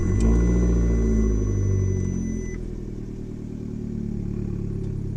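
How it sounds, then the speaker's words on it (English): Exhaust note of a 2015 Fiat 500 Abarth with its 1.4-liter engine and dual exhaust: a loud, droning engine tone that eases from a stronger rev into a lower, steady rumble, heard alone. "this exhaust note is something else, which we'll go ahead and I will show you that right now."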